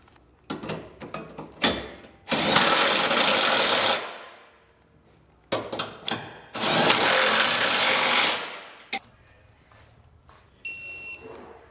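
Power tool tightening bolts and flange nuts on a Curt trailer hitch receiver being installed on a 2022 Ford: two loud whirring bursts of a couple of seconds each, with short clicks and brief rattles between them.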